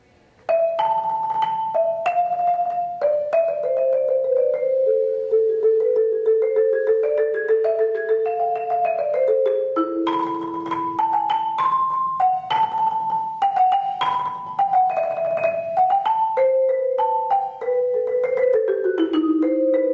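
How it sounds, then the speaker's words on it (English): Marimba melody played alone, warm mallet notes ringing in quick runs and steady phrases, close and clear throughout. "Marimba, for those that don't know, is this."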